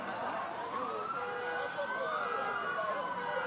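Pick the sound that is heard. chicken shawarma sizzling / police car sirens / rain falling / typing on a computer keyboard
police car sirens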